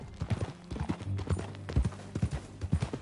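Hooves clip-clop in a steady rhythm from a horse in Red Dead Redemption 2, close and fairly loud, with a brief faint whinny-like sound and no speech over it.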